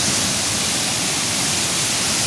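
Water rushing over Sol Duck Falls forms a dense, unbroken roar, loud and close, with no speech or other sounds.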